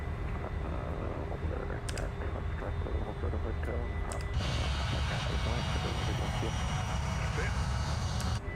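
Embraer E190 jet climbing after takeoff in Microsoft Flight Simulator: a steady, loud engine roar that swells partway through, with radio-style talk over it.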